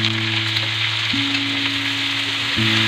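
Bamboo shoots dropped into a hot pan of oil sizzle and fry loudly and steadily, with a low hum running beneath.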